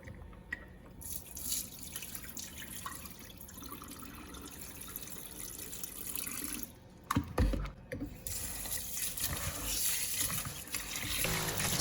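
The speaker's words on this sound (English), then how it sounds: "Drain off the water again." Water pours and trickles as it is drained off washed rice in a kitchen, a steady running flow with a brief louder splash midway.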